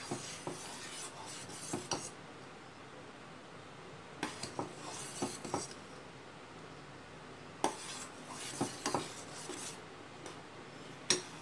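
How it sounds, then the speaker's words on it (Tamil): Spoon scraping and clinking in a pan of full cream milk, soft rhythmic stirring strokes in short clustered bursts with quiet pauses between them. "அடி பிடிச்சிடாமல் கலந்து விட்டுட்டே இருங்க"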